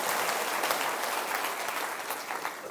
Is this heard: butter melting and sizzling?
no